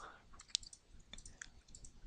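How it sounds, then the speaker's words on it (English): A handful of light, sharp computer mouse clicks land at irregular moments while a button is pressed in software, close and fairly quiet against a soft background. "You can do that by selecting pages and clicking the Add button."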